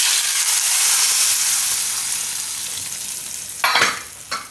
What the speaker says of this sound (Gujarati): વઘાર આપણે આની ઉપર રેડી દેવું